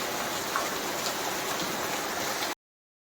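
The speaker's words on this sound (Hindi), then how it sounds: "ये देखो पूरी गली में पानी भरा हुआ है, बारिश बहुत ज़्यादा हो रही है सुबह से।" Heavy rain falling steadily on a waterlogged street, a dense, even hiss of water that runs without pause and then cuts off abruptly.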